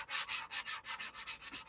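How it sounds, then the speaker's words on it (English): Filled tissue covering is sanded flat with quick, even back-and-forth strokes, about ten rasping passes in a steady rhythm, close and fairly quiet. "Now it's a matter of filling this tissue and sanding it flat."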